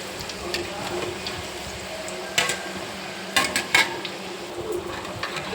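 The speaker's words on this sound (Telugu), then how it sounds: "ఇట్లా ఎర్రగా కాలినంత వరకు కాల్చుకొని తీసేసుకోవాలి." Jaggery kajjikayalu frying in hot oil until reddish, a steady low sizzle running throughout with a few sharper scrapes and clinks of a utensil against the pan.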